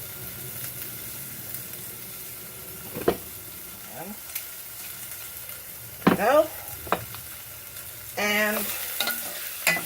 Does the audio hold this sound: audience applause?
no